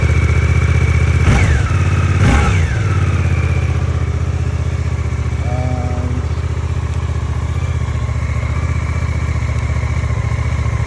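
Suzuki GSX-8S motorcycle on its standard exhaust, engine running close by with a steady throbbing idle and a couple of brief blips early on.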